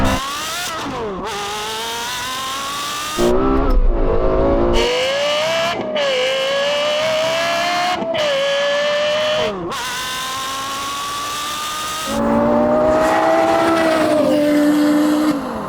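Porsche Carrera GT and Lexus LFA V10 drag racing over a quarter mile: loud engines scream through repeated rising revs broken by sharp gear-shift dips, with a brief tire squeal at launch and no talking.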